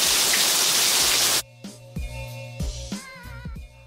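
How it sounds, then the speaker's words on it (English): Steady rain hisses loudly for over a second, then cuts off abruptly, giving way to quieter indoor sounds with low thumps and a faint tonal hum. "it's raining."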